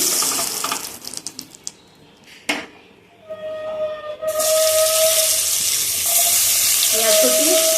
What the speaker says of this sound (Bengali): ওই তেলের মধ্যেই দিয়ে দেবো পেঁয়াজ কুচি